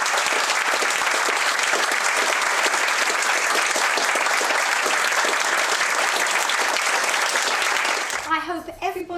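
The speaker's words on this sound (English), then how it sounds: "please applaud them for everything they do" A theatre audience applauds the cast at the end of the Grand Ma Mia show: dense, loud, sustained clapping fills the room for several seconds, then breaks off as a voice begins speaking.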